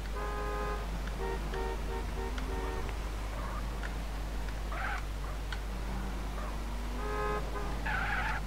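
Cars in GTA San Andreas drive past with engine whines and tyre squeals, mixed with game sound effects and tonal beeps over a steady low hum, moderately quiet and without talk.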